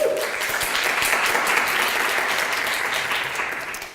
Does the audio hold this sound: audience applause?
yes